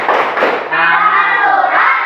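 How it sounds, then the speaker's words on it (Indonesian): A class of pupils claps the 'tepuk' rhythm for surah Al-Ma'un, with a few sharp hand strikes at the start, then a sustained chorus of young voices chanting together, loud and close. "Tepuk surah Al-Ma'un."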